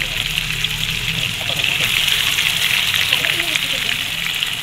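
Chicken pieces frying in a pan, a loud steady hiss and crackle of hot oil, close up and continuous, with a voice speaking faintly underneath.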